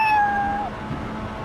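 A voice mimics a cat, giving one drawn-out meow that slides downward and fades, heard over the low rumble of a practice night at a track.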